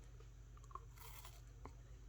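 A bite into a mint and dark chocolate crunch snack bar made with puffed rice gives a few faint, brief crunches against a quiet room.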